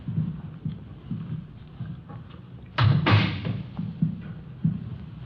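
A door swings open with a sudden creak and clatter, loud and near, followed by a short rattling bang against a background of low footsteps and room noise.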